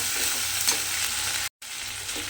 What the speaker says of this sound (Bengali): আদাটা দিয়ে আমি তেলের মধ্যে একটু কষিয়ে নিয়েছি